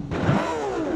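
A car engine in the Automation video game revs up sharply toward a high redline, a short rising synthetic whine with a smooth, continuous tone.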